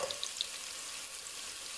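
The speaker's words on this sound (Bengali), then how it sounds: "পেঁয়াজটা আমার ভাজা হয়ে গেছে, এর মধ্যে আমি একটু আদা রসুন দিয়ে দেব" Onion frying in a pan with ginger and garlic added, a steady soft sizzle with a few brief clinks at the start, no voices.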